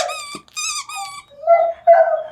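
A shelter dog yelps and whimpers in startled bursts at a squeaky toy, several close high-pitched cries with short pauses between them, and no talking.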